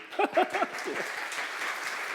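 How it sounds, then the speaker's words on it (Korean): Brief church congregation applause at a youth service, starting under a few spoken words and then settling into a steady, fairly soft patter of clapping from a mid-sized crowd. "박수."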